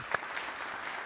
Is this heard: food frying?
no